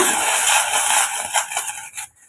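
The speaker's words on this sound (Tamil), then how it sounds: "சேர்த்துட்டு கலந்து விட்டுக்குங்க" Steady scraping and swishing of a utensil stirring thick idli batter in a pot, continuous and close, ending with a brief pause.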